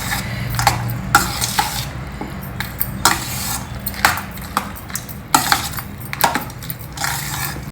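A spoon stirs masala paste through cooked rice for temple offering food, producing irregular scraping, clinking knocks against the pot and soft mushy rustles, close and moderately loud.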